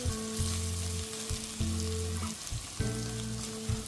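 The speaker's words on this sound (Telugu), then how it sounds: "అల్లం వెల్లుల్లి పేస్ట్ పచ్చివాసన పోయేంత వరకు ఫ్రై చేసుకోవాలి." Ginger garlic paste sizzles and crackles steadily in a hot pan for a mutton curry, close and continuous, with the sound of stirring breaking in every so often.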